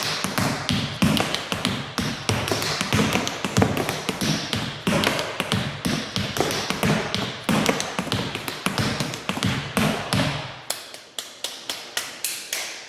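Rapid tap dance toe-heel steps click and strike in a steady, driving rhythm, crisp and close, ending with a few slower taps.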